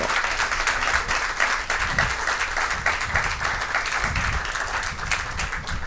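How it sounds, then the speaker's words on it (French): Audience applauds a school team at a high school quiz competition, with a dense, steady burst of clapping that stays full for several seconds and has no talk over it. "Je vous demande de les applaudir."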